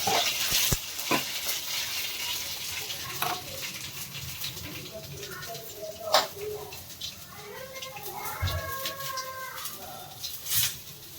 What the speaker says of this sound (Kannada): ಎಣ್ಣೆ ಕಾದಿದೆ, ಸಾಸಿವೆ ಹಾಕೊಂಡ್ಬಿಡೋಣ.